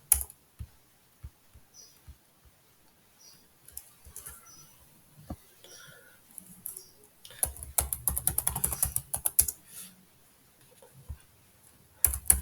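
Computer keyboard keys clicked one by one while working in a statistics program, a shortcut pressed, then a fast burst of close typing before a few more single keystrokes.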